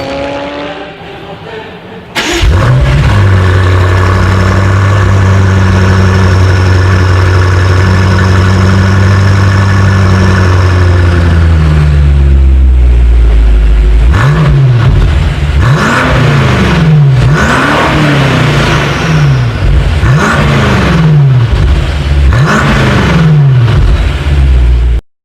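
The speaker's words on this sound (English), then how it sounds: "let me let you guys hear it for yourself, and as always, here is that exhaust clip." A BMW M5 exhaust starts up sharply, settles into a loud, close idle, and then a series of quick throttle blips sends the revs rising and falling repeatedly.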